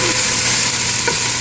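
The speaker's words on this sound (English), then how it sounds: "let's get the onions stirred up here a little bit" Onions fry and sizzle in a hot pan while being stirred for vegetarian chili, a loud steady hiss with scraping stir sounds and no speech.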